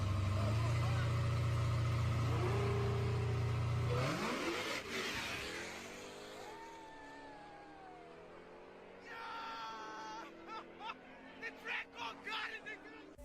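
A Jeep Trackhawk with a supercharged engine sounds off loud and close, a sustained low drone giving way to a sharp rev and falling whine, then short bursts of revving mixed with crowd chatter.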